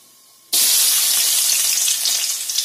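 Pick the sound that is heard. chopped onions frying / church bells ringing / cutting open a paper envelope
chopped onions frying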